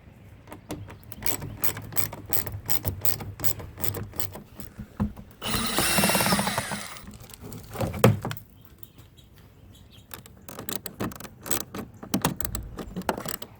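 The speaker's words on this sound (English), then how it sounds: "we're going to remove these Torx T15s through here" Close-up whirring and ratcheting of a power tool backing out Torx T15 screws on a C8 Corvette while radiator guards are fitted, in short bursts with pauses, one louder grinding stretch, and clinks of metal between runs.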